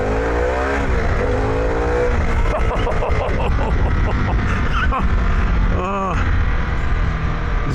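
A Harley-Davidson Pan America motorcycle fitted with a Vance & Hines exhaust accelerates hard, its loud engine note rising through the gears and sustained throughout, close up with strong wind noise.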